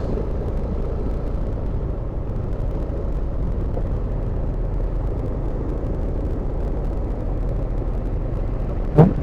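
Low, steady idling rumble of buses and vehicles in a parking area at a large peace rally in Davao City, continuous and close, ending with a short sharp hiss like an air brake.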